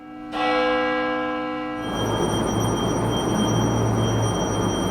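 A loud church bell strikes and rings out with a long sustained tone, then fades into a steady wash of ringing and background noise.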